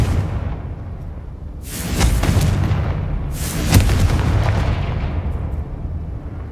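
Confringo fire spell explosions in the video game Hogwarts Legacy: two heavy booming blasts a second or so apart, each with a rumbling tail, over a steady noisy game background, with no talking.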